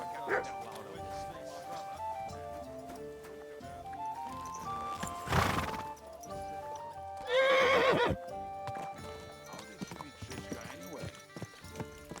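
Horse in Kingdom Come: Deliverance 2 whinnies loudly twice amid steady hoof clip-clop, over a continuous game music bed with talking throughout.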